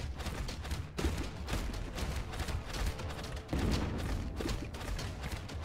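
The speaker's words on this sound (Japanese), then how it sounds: "あの爆発ずっと来るな。" Explosions in the video game God Of Weapons burst over and over in a dense, continuous barrage of crackling blasts with no voices.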